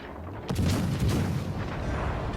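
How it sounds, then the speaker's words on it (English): Torpedo hits explode in the naval video game World of Warships Legends during a ranked battle, a deep booming blast followed by a loud rumbling roll that fades slowly. "So there's a few torpedo hits, flooding"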